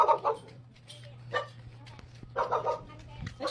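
A dog barks in short bursts near the listener in a residential outdoor setting, several quick yaps in two clusters over a low steady hum, with faint background sounds between.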